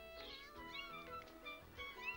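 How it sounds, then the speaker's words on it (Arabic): A kitten in a Caillou cartoon meows in several thin, high, rising cries, soft and close over a faint musical background. "لم يرى كايو من قبل قطة صغيرة كهذه"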